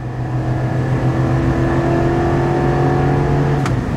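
A 2024 Chevy Silverado 3500 gas pickup with the L8T engine, towing a fifth-wheel trailer, hums loudly and steadily from inside the cab, its pitch shifting slightly as it accelerates and downshifts.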